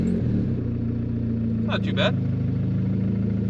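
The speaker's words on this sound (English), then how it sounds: "Let's go ahead and start this thing up." A built turbo Honda Civic engine fitted with meth injection runs at a steady, low-pitched idle, close by and even throughout, with a short rasp partway through and someone speaking briefly over it.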